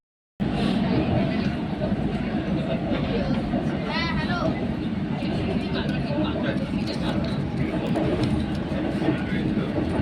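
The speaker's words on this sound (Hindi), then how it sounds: "ये ज़मीन के नीचे चलने वाली मेट्रो है।" An underground metro train runs beneath the Ganges on the Kolkata line, a steady loud rumble and rattle that fills the whole stretch, with crowd chatter and voices underneath.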